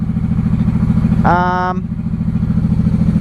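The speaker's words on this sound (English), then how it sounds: "The kickstand does not shut off the engine." A 1995 Honda Shadow VLX 600 (VT600CD) motorcycle idles in neutral with a steady, close, low pulsing thrum that runs throughout, briefly overlaid midway by a short high whistling tone.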